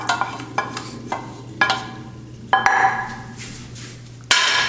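Pasta being stirred together with tuna sauce in a serving bowl gives a series of close clinks and scrapes of a utensil against the bowl, irregular strokes with a low steady hum beneath and no talk.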